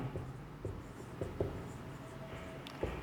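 Chalk or a marker writes on a board during a lecture, making faint, quiet scratchy strokes and taps that come in short irregular bursts.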